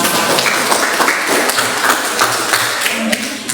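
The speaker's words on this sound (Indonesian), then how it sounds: "kita beri aplaus untuk pemirsa" Audience applause at an Indonesian classroom teaching session, a steady, dense wash of clapping that holds for several seconds without pause.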